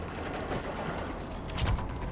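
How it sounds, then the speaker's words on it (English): Bursts of rapid gunfire crackle in the video game Mass Effect 3 over a dense, continuous background roar, with a louder volley near the end; no speech. "gunfire. They are near."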